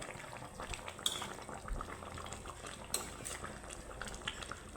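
Rui fish curry gravy with fried fish and panch phoron, made without onion or garlic, bubbles at a steady simmer, with the close, soft burble broken by occasional light clinks of a spoon against the pot.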